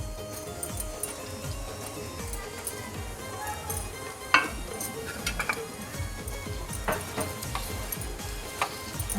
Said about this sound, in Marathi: यात आता आपण धुवून साफ केलेला जवळा घालून घेऊया।